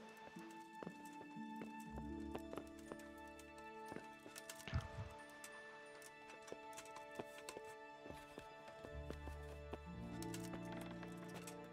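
Horse hooves clip-clop steadily in the medieval game Kingdom Come: Deliverance, a moderate walking rhythm heard alongside layered orchestral game music, with one louder thump midway.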